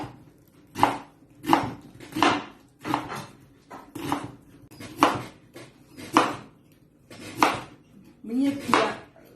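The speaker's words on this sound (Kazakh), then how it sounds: "Міне сәбізін турап жатырмын" Carrots being sliced with a knife on a board for shah pilaf, about ten steady evenly spaced chops, close and crisp, with no other sound between strokes.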